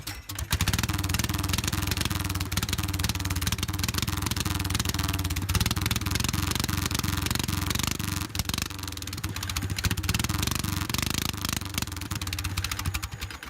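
A small 9 horsepower Kitty Cat snowmobile engine runs steadily at a fast, buzzy idle, a close, rattling putter with slight fluctuations in speed.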